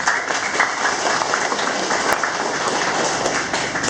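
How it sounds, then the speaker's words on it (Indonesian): An audience claps at a school inauguration ceremony in Ketapang, Indonesia, with dense, steady applause that carries on at an even level throughout. "Tepuk tangan dulu."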